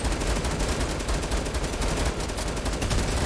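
Continuous rattling automatic fire in Fortnite, steady and fairly dense throughout, with no voices over it.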